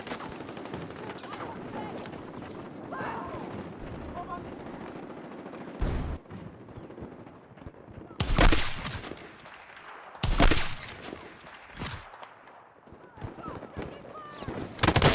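Mortar and gunfire blasts in a first-person shooter video game, several loud broadband bursts at irregular intervals over a busy game soundscape, with someone talking at times.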